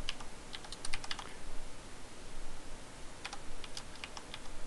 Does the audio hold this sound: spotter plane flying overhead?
no